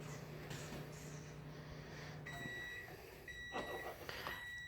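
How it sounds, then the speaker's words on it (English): Electronic beeping from a Micro Pro grill pan sounds in a kitchen while meat is ground for steak burgers, with short steady tones repeating in the background over a constant machine hum. "The beeping in the background is the Micro Pro grill pan."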